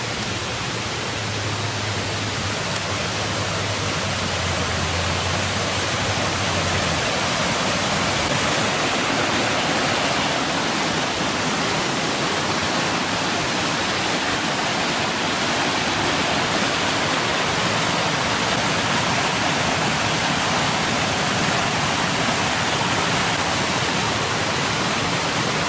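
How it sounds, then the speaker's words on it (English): Waterfall heard from nearby during a bushcraft outing, a steady broadband roar of falling water that continues unbroken for the whole stretch with no voices. "Another waterfall up there."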